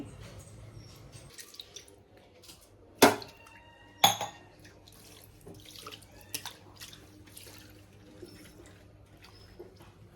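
Water poured and splashing during kitchen cleaning, with soft running trickles and a couple of sharper splashes and clinks standing out against a quiet room.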